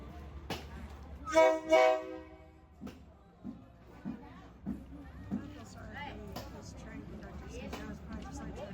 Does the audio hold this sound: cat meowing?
no